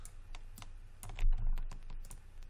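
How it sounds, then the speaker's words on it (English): A computer keyboard is typed on in quick, close, crisp clicks during 3D modelling work in Maya 2017. A few heavier thumps are mixed in, with no talking. "We're going to hit Q on our keyboard."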